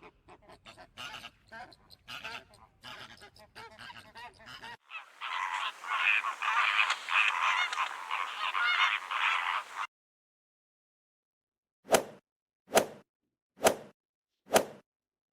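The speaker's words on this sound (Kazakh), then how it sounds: "Дұрыс, бұл қызғылт қоқиқаз." A pink flamingo gives goose-like honking calls: first scattered rough bursts, then a dense chattering stretch, and after a pause four short, evenly spaced honks, all clear and close.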